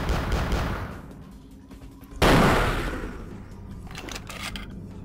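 Gunfire in the vampire action role-playing game Vampire the Masquerade Bloodlines: a sudden loud shot bursts out mid-clip and fades away, set against a steady game soundtrack.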